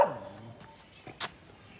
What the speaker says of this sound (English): Yeah, that's my dog.